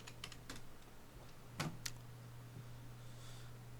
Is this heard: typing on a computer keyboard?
yes